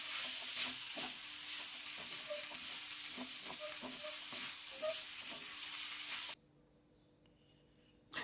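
Fried rice with fermented pork and tomatoes is stir-fried in a pan, a constant loud sizzle with repeated spatula scrapes for about six seconds before it drops to near silence, with no talking.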